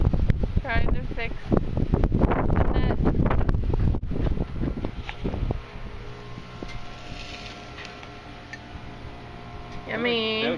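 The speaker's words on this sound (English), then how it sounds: "It's windy." Heavy wind buffets the microphone in loud low rumbles, easing after a few seconds, while people talk faintly underneath.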